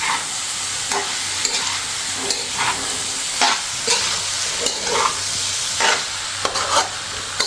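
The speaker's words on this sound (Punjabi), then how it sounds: "ਹੁਣ ਐਡ ਕਰ ਦਿੰਦੇ ਆ ਜੀ ਪਿਆਜ਼ ਤੇ ਭਿੰਡੀ ਚੰਗੀ ਤਰ੍ਹਾਂ ਕਰ ਲਓ ਮਿਕਸ" Okra and onion fry in hot oil while being stirred in a pan, giving a steady close sizzle broken by repeated scraping stir strokes at an uneven rhythm, with no talking.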